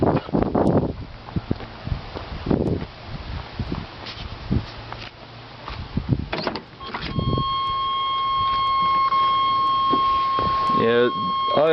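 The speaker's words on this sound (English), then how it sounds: "I apologize for the buzzer" A dashboard buzzer in a 1988–1998 Chevy C/K pickup truck sounds as a steady, loud electronic tone for the last few seconds, following clicks and handling of the driver's door handle and lock.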